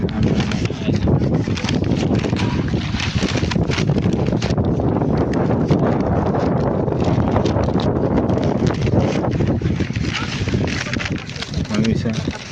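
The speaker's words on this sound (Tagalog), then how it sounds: "Hangin talaga dito" Strong wind buffets the microphone at Subic Bay, a loud continuous rumbling roar with gusty flutter that persists throughout, masking other sounds.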